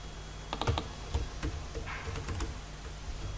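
Fingers type on a computer keyboard while writing JSP code, a close run of quick plastic key clicks in uneven bursts, then sparser taps over a low background hum.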